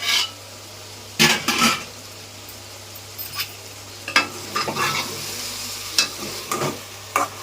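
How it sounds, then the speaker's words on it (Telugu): Brinjal and chana dal frying in oil in a pan with turmeric; a continuous sizzle is punctuated by repeated scraping stirs and metal clatters of a spoon against the pan, close and fairly loud, with no talking. "చక్కగా మగ్గుతున్నాయండి నూనెలో శనగపప్పు, వంకాయ"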